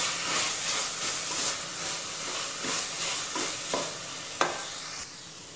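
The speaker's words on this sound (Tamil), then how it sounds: "இது நல்லா வதங்கிருச்சு." Masala of onion with Kashmiri red chilli powder sizzles and sputters steadily in a pan, a continuous frying hiss broken by occasional scraping stirs and a sharp tap near the end.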